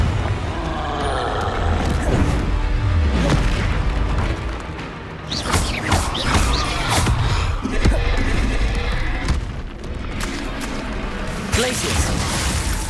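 Confringo blasting spell explosions in the video game Hogwarts Legacy, loud booms and crackling bursts over a dense, continuous battle din, with a voice shouting spell names throughout.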